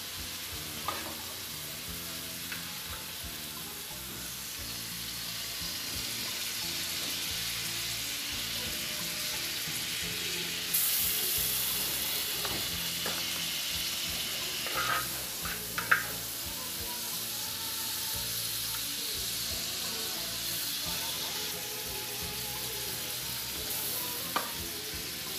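Sausage, assorted meats and egg fry in a pan for feijão tropeiro, giving a continuous loud close sizzle with occasional stirring scrapes and a few sharp clicks, and no talking.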